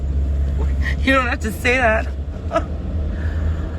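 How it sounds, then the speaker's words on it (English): Inside a loud car driving in the rain, a low steady engine and road rumble runs under a person speaking close by. "it's raining, I'm driving, my car is loud."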